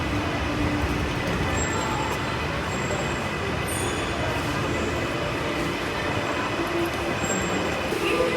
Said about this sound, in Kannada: ನಮ್ಮ ಟ್ರೈನ್ ಬಂದೇ ಬಿಡ್ತು ಗುರು.